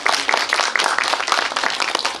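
Audience clapping at a Korean film screening talk with the cast, a dense, loud, steady burst of applause from a seated crowd lasting a couple of seconds.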